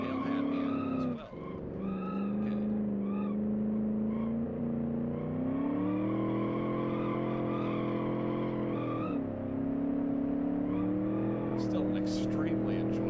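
A simulated car in the Automation game drives hard, its steady engine drone rising and falling with brief tire squeal, while someone talks over it throughout.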